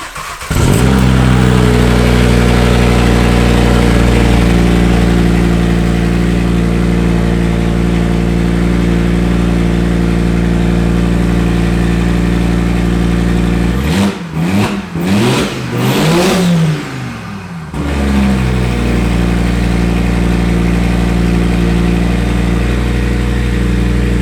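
An Audi RS3 five-cylinder engine swapped into a Caddy van runs loud and close, holding a steady rumbling idle before a few quick throttle blips around the middle, then settling back to idle; no voices.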